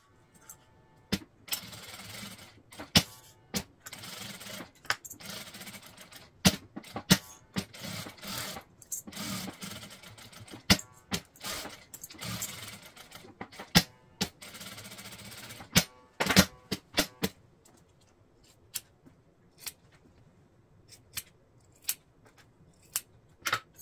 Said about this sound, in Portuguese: Vou deixar tudo bem alinhado e fazer uma costura em toda a volta.